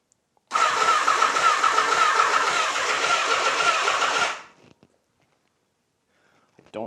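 A Honda Nighthawk motorcycle engine cranks over for about four seconds without catching, a loud steady starter whir that cuts off into near silence; the engine sits without fuel and with no spark plug fitted.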